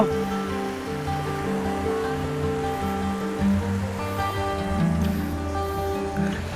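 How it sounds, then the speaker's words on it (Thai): Surf on Chao Lao beach in Chanthaburi, Thailand, a continuous loud wash of breaking waves rolling in and out, with no voices. "ที่หาดเจ้าหลาวนะครับจันทบุรีนะครับผม"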